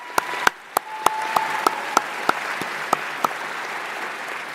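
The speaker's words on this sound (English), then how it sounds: "If we could give them a round of applause." Scattered, fairly sparse clapping from an audience at a middle school closing ceremony, individual claps standing out in a steady rhythm over a soft room murmur, with a faint tone held beneath.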